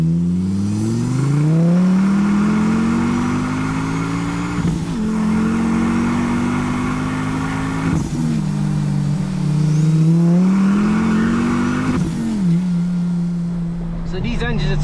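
A five-cylinder turbo engine in a stage 2 Mk2 Ford Focus ST with a Milltek exhaust accelerates through several gears, its exhaust note climbing in pitch then dropping at each shift, loud and close, with voices underneath.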